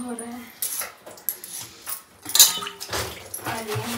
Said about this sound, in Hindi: यहाँ पे ग्लास वगैरह जो उसको धुल रहे हैं